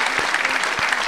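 A live comedy show audience in Paris bursts into brief, loud applause, close and full, with a few scattered sharper claps standing out.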